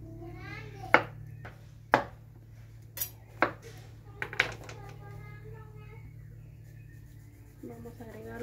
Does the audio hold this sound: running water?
no